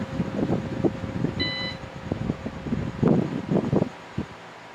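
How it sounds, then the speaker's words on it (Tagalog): An unplugged uninterruptible power supply gives a short, faint electronic beep amid rustling, bumping handling noise and a low fan hum at a PC power-supply workbench. "Tapos yung naririnig nyo is ito UPS ko."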